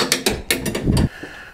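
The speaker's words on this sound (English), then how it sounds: "just gonna loosen the nuts up and take them completely off" A hand ratchet loosens the tailgate nuts on a 1988 Ford Bronco, giving several close, sharp bursts of rapid clicking with short pauses between them and no talking.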